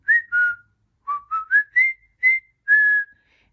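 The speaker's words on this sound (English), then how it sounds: "So I always would wake him up, and then I'd whistle this like song." A person whistles a tune to a pet parrotlet: seven or so clear, close whistled notes in short rising and falling phrases, with brief pauses between them and nothing else in the background.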